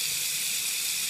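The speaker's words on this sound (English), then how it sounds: "It's dripping." Burning hot water drips and sizzles onto a fake Pokemon card, a continuous hissing, bright wash of sound that stays steady and close with no talking.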